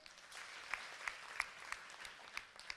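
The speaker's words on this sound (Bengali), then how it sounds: "তাহলে নিজেদের জন্য একটা উষ্ণ করতালি হবে।" Warm applause from an audience at a formal event, a continuous wash of many hands clapping with a few louder, sharper claps standing out, heard faintly at a moderate distance.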